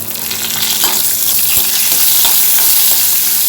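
Crushed spices fry in hot oil in a pan, giving a loud, continuous, close sizzle broken by a few soft stirring taps, with no talking.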